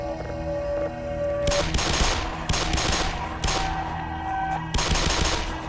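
Bursts of automatic gunfire from Black Mesa as zombies are shot, loud rapid volleys in several clusters with short gaps between, layered over game music and ambience.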